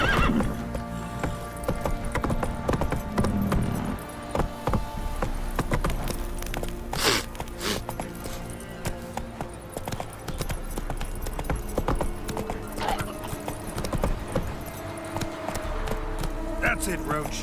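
In the Witcher 3 video game, the horse Roach gallops with rapid rhythmic hoofbeats and lets out a whinny midway, while a player talks over the action.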